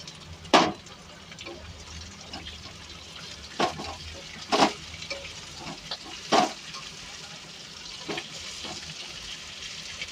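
Chicken pieces go into a pan of cooked chilli chicken masala, bringing several sharp sizzling bursts and clatters over a low, steady frying hiss.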